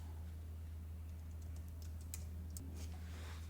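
A file name typed on a computer keyboard: a quick, faint run of light key clicks over a low steady hum, with no talk.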